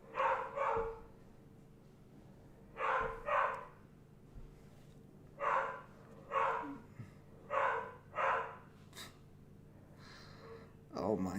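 A dog named Jackson barks in paired bursts at a home desk setting, repeating every couple of seconds at moderate distance, with a few snorts and breaths between barks.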